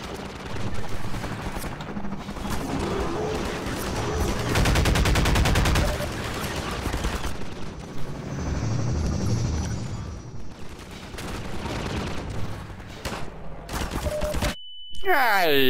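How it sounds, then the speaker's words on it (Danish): Gunfire aimed at an explosive barrel in the video game Half-Life 2, a loud sustained burst of rapid shots and blasts with a dense, harsh wash, ending in a brief dropout and a beep near the end. "så skyder de lige på dunken, mand. Så springer de i luften."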